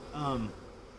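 Honey bees buzz around a newly set-up hive on a farm, a brief close swell of droning that rises and fades within about a second, fairly soft.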